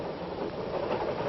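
A train rolls steadily along the rails as a radio drama effect, a continuous muffled rumble with soft rattling, steady and fairly loud with no voices.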